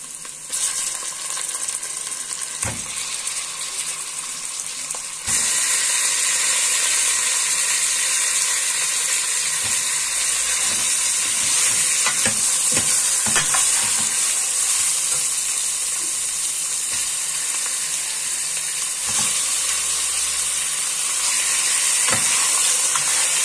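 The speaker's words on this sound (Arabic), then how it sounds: "هنزل باللحمه" Meat for an okra and meat tagine drops into a hot pot and breaks into a loud, steady close sizzle, with occasional clatters of stirring and a brief jump in intensity as the meat lands.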